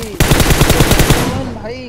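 Automatic gunfire in the PUBG Mobile video game rattles out in a rapid, loud burst of shots lasting about a second, close and dominant, followed by a fading tail with faint voices.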